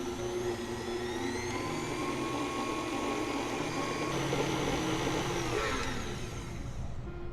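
Electric mixer whipping cream for a turtle pumpkin pie, a loud, continuous motor whine with a steady whir, close up and without talk, its pitch rising slightly as the speed increases.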